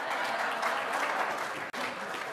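A large audience applauds steadily at a talk, a dense even wash of clapping that cuts out abruptly for an instant near the end before resuming.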